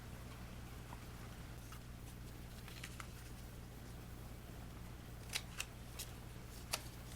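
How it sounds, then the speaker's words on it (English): Scissors snip through paper circles for a Polar Lights flying saucer model kit, several faint sharp cuts clustered near the end over a steady low hum, with a rainy day outside. "So let's get those cut out."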